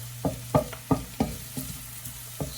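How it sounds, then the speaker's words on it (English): Garlic going into hot oil in a new wok, heard as a series of about seven distinct close clacks and stirring scrapes at a fairly regular rhythm over a low sizzle, no voices. "Now I'm gonna put the garlic in."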